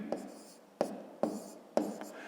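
A pen writes numbers by hand for long division, four close, distinct scratching strokes each starting with a sharp tap and trailing off, spaced at an uneven rhythm.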